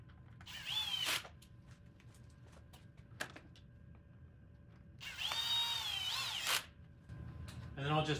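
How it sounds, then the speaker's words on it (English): Power tool whirring in two bursts to drive the bolts of a Puig windscreen on a 2020 Husqvarna 701 Enduro LR, each run about half a second to a second and a half, close and fairly loud, with a faint click between and a brief clatter at the end. "I use the power tools to go quickly"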